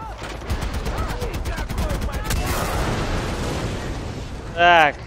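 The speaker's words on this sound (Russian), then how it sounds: "Взрываем просто напрочь все." Explosions and gunfire from the video game Far Cry 4, with rapid dense bursts and rumbling blasts running throughout, ending in a loud sharp burst near the end.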